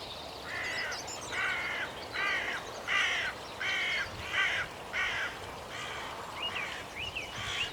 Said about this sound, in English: I could hear another crow in the distance